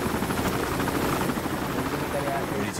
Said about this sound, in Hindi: हेलीकॉप्टर